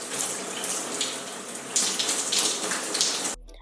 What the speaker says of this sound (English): Now, I'm just going to saturate my hair with water.